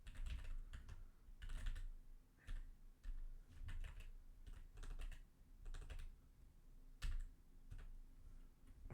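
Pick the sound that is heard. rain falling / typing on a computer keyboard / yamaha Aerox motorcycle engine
typing on a computer keyboard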